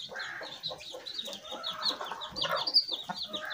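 Desi hens and their chicks clucking in a farmyard, with overlapping soft clucks and high peeping chick calls running continuously at close range, and no one speaking over them.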